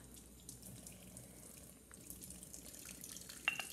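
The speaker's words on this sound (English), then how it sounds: "let's put a little bit of water on this brush." Tap water runs in a steady, soft stream onto a shaving brush with faint splashing and a few light drips, close by and quiet, no voices.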